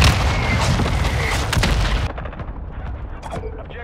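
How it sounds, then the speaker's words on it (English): Mortar strike explosions in a Call of Duty match: loud, heavy booms and rumbling blasts crowd together for two seconds, then sharper, thinner detonations follow more sparsely, with a distant voice faintly mixed in. "Hostile mortar strike near your position."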